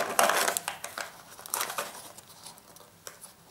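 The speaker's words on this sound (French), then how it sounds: "vous posez bien votre ciseau, votre paire de ciseaux sur la boîte et vous coupez" Scissors cut through a cardboard box for a pencil-box craft, producing crisp crunching snips and crinkles in irregular bursts, close and fairly loud with no talking.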